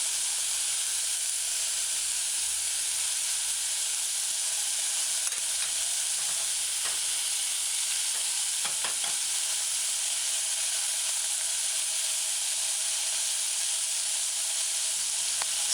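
Meatballs fry in a pan with only a little oil for a tomato stew, giving off a loud, steady sizzle and hiss throughout, with a few faint clicks and spatters now and then.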